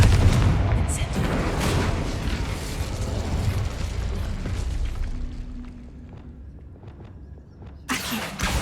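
In the Hogwarts Legacy game, Bombarda and Confringo spells set off a dense, loud run of booming blasts and crackling impacts that fades into quieter rumbles, followed by a sudden burst near the end.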